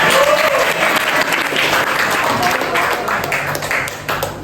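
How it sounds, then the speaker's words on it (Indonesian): Dense clapping from a group of children fills the clip, steady and close, with a few voices mixed in underneath. "Oke, tepuk tangan."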